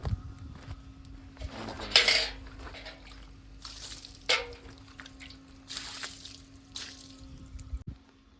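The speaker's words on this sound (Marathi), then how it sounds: "गाडीला थोडंसं पाणी बिनी मारतो म्हणलं जरा गाडी थंड होईल आपली" Water is splashed onto a motorbike to cool it down, with several separate wet slaps and splashes nearby over a low, steady background hum.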